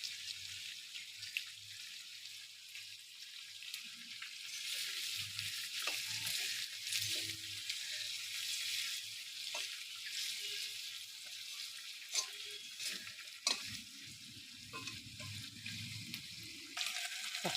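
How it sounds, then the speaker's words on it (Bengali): Onion, garlic and boal fish fry with chili powder in a pan, producing a quiet hissing sizzle with soft stirring scrapes and occasional pops, no speech. "এইদিকে পেঁয়াজ রসুনটাকে আমি কষতে দিয়েছি"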